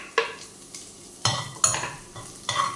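Garlic and green chilli frying in butter for egg fried rice, a soft sizzle punctuated by several sharp scraping bursts of a spoon stirring against the pan.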